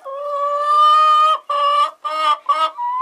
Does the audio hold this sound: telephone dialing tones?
no